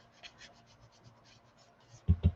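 Ink being applied across the fold of a paper journal page gives soft, repeated scratching and dabbing strokes, faint at first, then a few louder thumps at the end.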